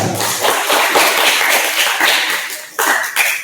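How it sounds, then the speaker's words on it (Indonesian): A class claps for group 2 after their classroom presentation, a dense burst of hand claps from many students filling the room for a few seconds, then dropping off before a short fresh flurry. "Tepuk tangan untuk kelompok 2."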